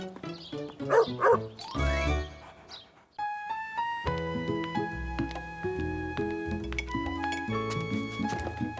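A dog barks and yips briefly at the start in a cartoon zoo scene, followed by bright music.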